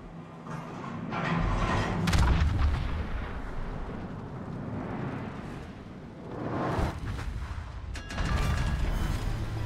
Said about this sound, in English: All stations, concentrate fire on that target. Fire!